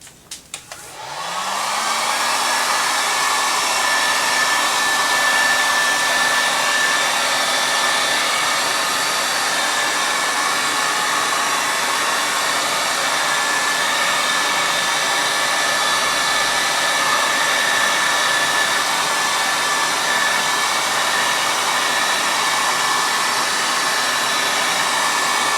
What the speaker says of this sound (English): now I'm going to get my heat gun out, see if anything happens.